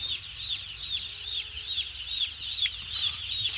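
Chickens in a poultry house cluck steadily in a continuous chorus, with repeated chirpy calls against a low hum from the building, and no voices.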